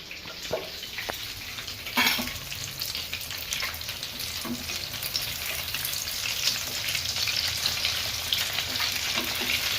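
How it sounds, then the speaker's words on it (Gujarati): Limbu gota, lemon fritters with garlic in the batter, deep frying in hot oil, a steady dense sizzle throughout with a few louder pops and spatters. "ક્રિસ્પી ગોલ્ડન થવા માંડી ગયા છે. તો આને આપણે થોડા 5-6 મિનિટ તળવા દેવાના"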